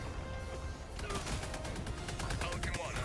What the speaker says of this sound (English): don't stand in front of the sentry because it will not stop shooting